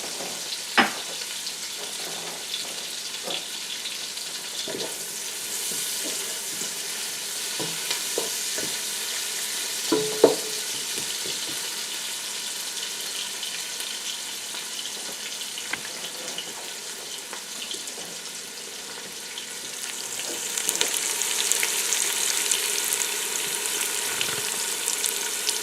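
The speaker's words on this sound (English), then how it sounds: "I'm going to add the garlic. Just keep cooking till it's translucent." Garlic frying in a pan for a leftover cabbage casserole, a soft steady sizzle with scattered small pops and stirring clicks, fairly quiet and close, growing a little louder and hissier near the end, no talking.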